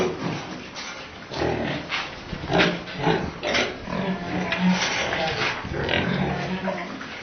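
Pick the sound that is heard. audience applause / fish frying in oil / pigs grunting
pigs grunting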